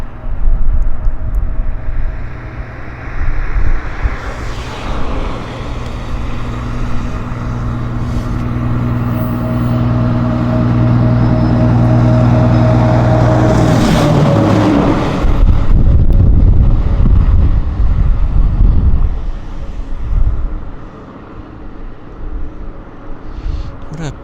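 A USAF heavy transport aircraft arrives at Abbotsford, its loud jet roar building, swelling as it passes close, then fading with wind buffeting, while people talk over it.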